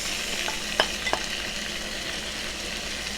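Onions and taco-seasoned Impossible burger meat sizzle steadily in a pan, with a couple of quick scraping stirs of a utensil early on before the frying hiss continues alone.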